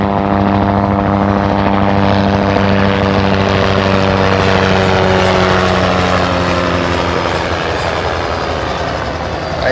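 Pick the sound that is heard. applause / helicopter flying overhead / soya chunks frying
helicopter flying overhead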